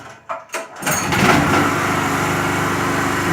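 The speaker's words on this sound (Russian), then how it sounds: "Поэтому сейчас включаю генератор, будет очень шумно." A small generator gets two quick pull-start tugs, then catches and settles into a loud, steady, buzzing run close by.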